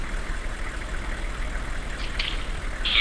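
A steady UAZ engine in the game ArmA 2 idles with a low rumble, faint mechanical hiss above, and a brief higher whine near the end; no voices.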